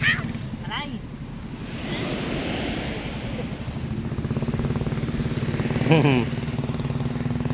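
Morning sea waves wash onto the beach at Cha-am in a continuous windy roar, with a motorbike engine droning nearby and a voice speaking briefly over the surf.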